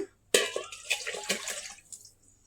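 Water is poured from a vessel onto leftover cooked rice to soak it, a short close splashing gush that starts abruptly, burbles unevenly for under two seconds and tapers off.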